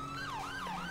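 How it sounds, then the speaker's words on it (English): Wailing police siren from the GTA V LSPDFR mod, a loud electronic tone sweeping up and down in slow continuous cycles, close and alone with no talk. "this is one of your sirens."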